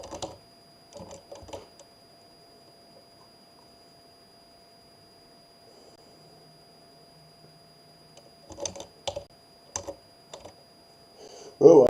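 Typing on a computer keyboard, short bursts of quick key clicks at the start and again near the end with a quiet pause between, close and moderately loud.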